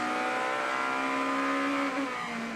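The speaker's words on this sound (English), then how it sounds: "you could just hear Gary take off the throttle before the apex of turn number 12" An Audi DTM race car at Zandvoort lifts off the throttle before a corner apex, its loud sustained engine note holding steady and then dropping in pitch as the revs fall, with no talk over it.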